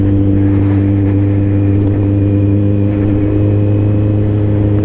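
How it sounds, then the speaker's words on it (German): Suzuki Hayabusa motorcycle fitted with an Akrapovic exhaust idling low and steady, a loud, close, rumbling burble with a continuous throbbing tone and no talk over it. "da blubbert der Auspuff einfach schon raus"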